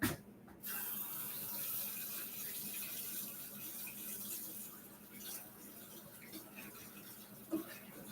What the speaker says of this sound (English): I'm going to rinse my brush off because I don't want it dry on here.